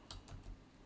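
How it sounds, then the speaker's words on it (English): Someone types on a computer keyboard, three or four faint, quick key clicks, quiet and close, with no voices. "I'm not thinking, I'm typing."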